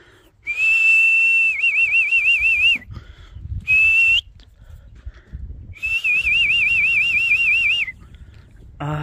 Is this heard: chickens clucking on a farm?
no